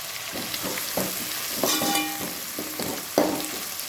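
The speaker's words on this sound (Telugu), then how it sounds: "ఆనియన్స్ వేగుతున్నాయి కదండి" Onions frying in a pan for mutton biryani give a steady close sizzle, with a few soft scrapes and clinks of stirring breaking through now and then.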